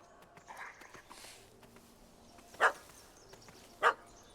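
Two short, sharp barks from a dog in The Witcher 3, spaced about a second apart and standing out against quiet ambient game background with faint earlier rustles.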